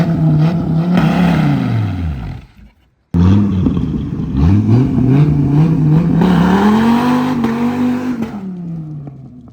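A 2006 Dodge Viper SRT-10 on asphalt sounds close and loud as its engine revs up and down in repeated sweeping pulls, with a brief cut partway through, and no talking over it.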